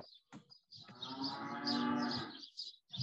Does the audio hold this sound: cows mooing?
yes